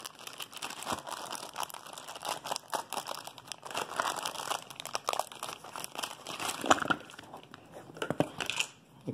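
A cardboard box of roof rack parts is opened, with close, continuous crinkling and crackling of a plastic sheet and occasional tearing-like rustles throughout.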